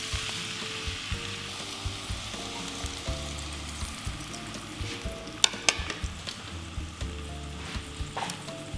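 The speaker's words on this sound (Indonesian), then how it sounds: "Lalu kita akan tumis bumbu Balinya sampai dia matang." Balinese spice paste sautéing in oil for bakso pulung pulung, a steady close sizzle and crackle with scattered sharp pops and light scraping stirs, no talking.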